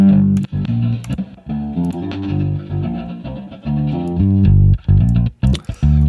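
A bass guitar in Prime Bass software plays a steady low riff with a reverb effect, loud and sustained, its notes ringing into each other before cutting off sharply.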